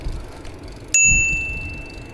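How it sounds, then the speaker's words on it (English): A single bright ding from the handlebar bell of a Ride1Up Vorsa e-bike on an off-road ride, ringing out once and decaying slowly over low wind and riding rumble. "I rang my bell for like everyone"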